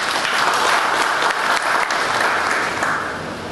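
A business forum audience breaks into steady, dense applause, loud and close at first, then thinning and fading toward the end.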